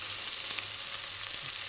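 Chicken alfredo ingredients being stirred in a pan, with a steady bright sizzle and a few faint scraping strokes throughout, no voices.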